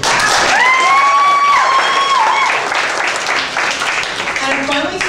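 A comedy club audience applauds loudly, with a long rising whoop of cheering over steady clapping that gradually settles into looser claps.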